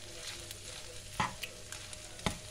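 Fried rice with scrambled egg stirred in a pan, a low steady sizzle broken by a few sharp scraping clicks of the spatula against the pan.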